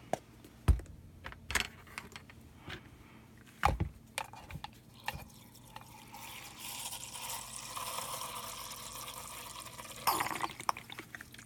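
Water pours into a doTERRA Lumo essential oil diffuser after a series of plastic clicks and taps while handling it, then a steady trickling fill swells in the middle and ends with a couple of light knocks.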